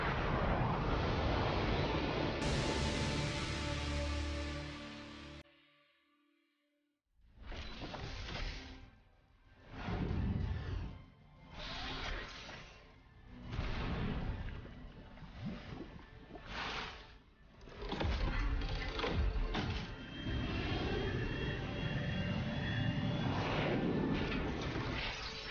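A Double-tailed Scorpion military UAV drone launches and takes off at an air show: a loud, broad roar that starts, breaks off briefly, then returns in surging waves of rushing noise.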